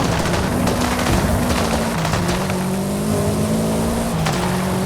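A Subaru Impreza WRX STI with four-wheel drive corners and slides, its engine droning loud and close with wavering pitch while tire noise and rough road roar fill the background throughout.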